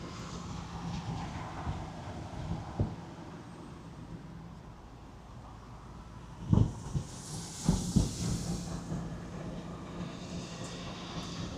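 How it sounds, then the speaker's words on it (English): A lawn sprinkler sprays water outside a hotel on a busy tourist drive, a steady hiss under traffic rumble, with a burst of spray rising partway through and a few sharp knocks nearby. "Did I just get a little bit sprayed with that sprinkler?"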